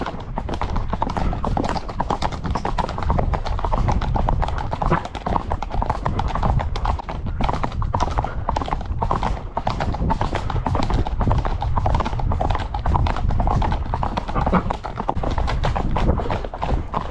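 A ridden American quarter horse clip-clops steadily along a trail in Crete, its hoofbeats close and continuous over a busy outdoor background, with a few voices faintly present.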